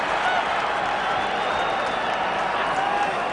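A rugby stadium crowd at the 2003 Scotland versus Fiji match in Sydney roars and applauds in a loud, dense, unbroken wash of cheering and clapping, with a voice faintly mixed in.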